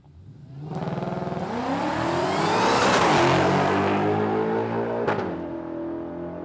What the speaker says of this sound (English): Brad Price. Late model Mustang, supercharged one